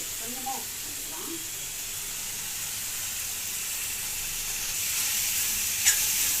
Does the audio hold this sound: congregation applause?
no